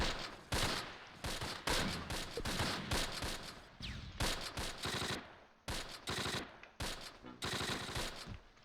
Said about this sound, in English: Dave Chappelle's just getting shot from inside the building.